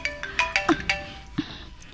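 A mobile phone ringtone plays a short, bright electronic melody of quick, clear tones, close and fairly loud, with a brief pause before a final note.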